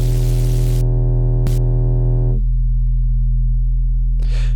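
A synthesized sub bass with overdrive distortion sounds as a loud continuous low drone, buzzy and harmonic-rich at first, then thinning to a cleaner low tone with a brief noisy burst near the end.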